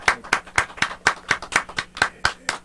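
Eleven sharp hand claps in a steady, fairly quick rhythm, each one crisp and close, as a small audience or single clapper applauds at a comedy show.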